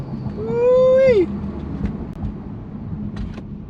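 A 1998-2002 Camaro or Firebird with an SLP Loudmouth exhaust and traction control off fishtails, its V8 revving in a loud rising howl that peaks and drops sharply, then rumbles more quietly under rushing wind.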